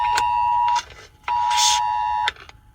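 A phone emergency alert sounds in Kuwait: a loud, near electronic tone blares in two long steady pulses with a short gap between, then cuts off.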